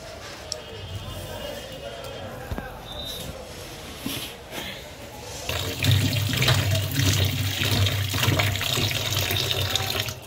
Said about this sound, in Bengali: প্রথমে পেঁয়াজগুলো ছোলা হয়ে গেলে ভালো করে ধুয়ে কুচি কুচি করে নেবে